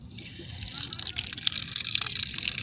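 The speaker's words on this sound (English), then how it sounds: "turn them on, and I have plenty of water for my garden" Water gushes from the valves of IBC totes collected from roof runoff, a steady close splashing flow with bright spattering that builds slightly and keeps going.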